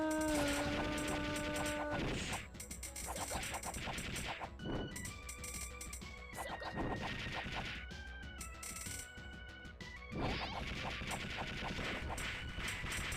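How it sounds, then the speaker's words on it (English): An explosion in the video game Recettear bursts through game music and sound effects, with several sharp crashing hits and tonal chimes across the passage. "Ooh, massive explosion."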